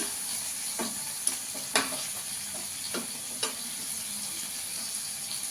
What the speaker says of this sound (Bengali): এই পিঠটাকে এরকম করে ভেজে নেবো